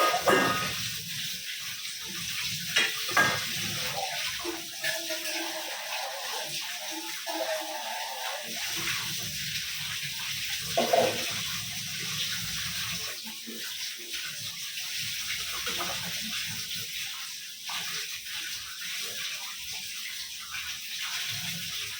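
A kitchen tap runs steadily while tea things, milk and tiffin dishes and buttered-bread plates are washed, a continuous splashing hiss with small clinks and shifts throughout, close by and without speech.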